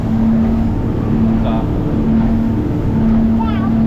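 A boat cruising at 64 km/h out from Point Hughes on a fishing trip: a loud, steady engine and hull roar mixed with rushing wind, with a faint whine running through it.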